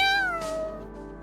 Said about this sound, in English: The cat lifted its head in an enthusiastic response.